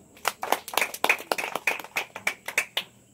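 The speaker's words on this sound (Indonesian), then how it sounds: "Tepuk tangan bagi Tuhan." Congregation clapping at a church service, a quick run of sharp, fairly even handclaps that stays moderately loud, with no talk over it.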